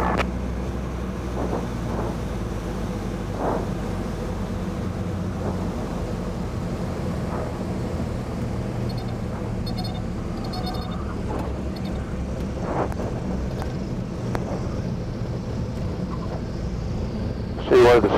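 Small aerobatic Pitts biplane in flight during spin training, its propeller engine giving a steady low drone with wind rush throughout, close and continuous, with a few brief knocks and clicks in the cockpit toward the end.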